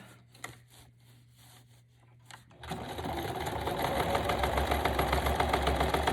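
A sewing machine stitches through paper scraps, starting after a few faint taps and quiet handling, then running continuously with a steady whirring, mechanical rhythm that grows slightly louder, close by, with no speech.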